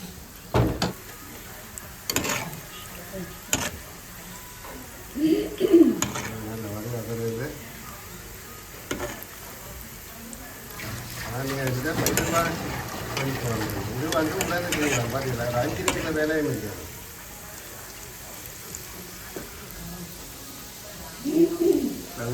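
Apple pie pieces fry in hot oil with a soft, bubbling sizzle that swells in the middle, mixed with stirring and utensil clatter, while pigeons coo in the background and a person talks at times.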